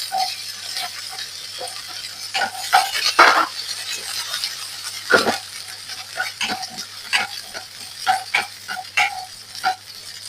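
Chopped garlic and onion stirred in a pan, with a soft sizzle under repeated light clinks and scrapes of a spoon against the pan.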